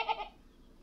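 A single brief goat bleat sounds at a modest distance, a short wavering cry that fades into quiet background.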